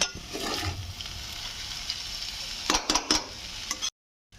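Paneer noodles fry with soy sauce in a hot pan, giving a steady close sizzle, then a few quick spatula clinks and scrapes before an abrupt cutoff.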